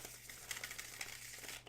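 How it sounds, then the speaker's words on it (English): Tarot cards are shuffled in a quick, soft crinkling flurry of papery riffles lasting under two seconds, close and quiet, with no voices. "One more time, shuffling."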